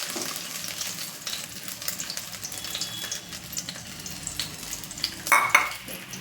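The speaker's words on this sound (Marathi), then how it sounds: "हे मी परतवून घेत आहे तुपावर" Soaked ginger sizzling and frying in ghee in a pan for halim ladoo, a steady close crackle with stirring scrapes throughout and a brief louder clatter near the end, no voices.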